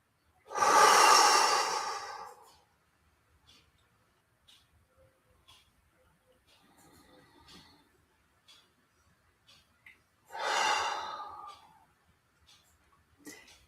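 Guided breathing exercise with a deep inhale and a long exhale, two loud breathy bursts close to the microphone, separated by near silence with faint small rustles.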